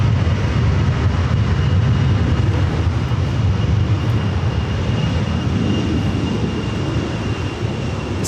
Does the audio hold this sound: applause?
no